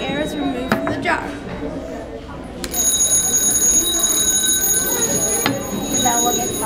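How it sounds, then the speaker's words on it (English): An electric bell inside a glass jar starts ringing partway through a science demonstration on air removal, a sustained bright metallic buzz with steady overtones, heard alongside a voice talking. "On the right, there is a bell."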